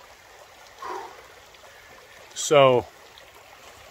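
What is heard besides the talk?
mountain stream water flowing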